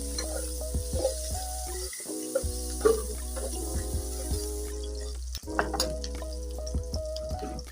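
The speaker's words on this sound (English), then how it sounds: "So I'm adding my onion. Allow it to get dry a little." Onions frying in oil in a pan, a steady close sizzle with occasional stirring clinks and a constant low hum in the background, without talk.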